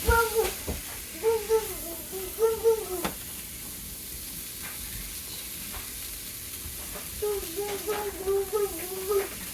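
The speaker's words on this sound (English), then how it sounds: "I'm gonna let this cook for about 5-6 minutes, stirring occasionally just to get all those seasonings toasted" Seasoning and vegetables sizzle in a pan, a steady hiss with occasional stirring scrapes, while a person talks over it in short bursts.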